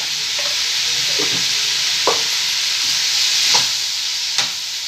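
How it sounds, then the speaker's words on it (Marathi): Turmeric stirred into a frying pan while making bitter gourd pickle, a loud, steady hiss of oil sizzling close by, with a few light clicks of a spoon against the pan; no voices. "1 चमचा हळद घालून हलवून घ्यायचं 2 मिनिटं चांगलं."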